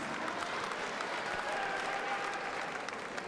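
Darts crowd in Blackpool applauding, a dense, steady wash of clapping from a large audience, sustained and even for a few seconds with no pause.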